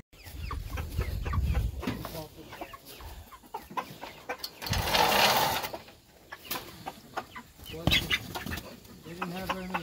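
Cornish Cross meat chickens cluck and squawk repeatedly at close range, with some louder bursts and rustling between calls.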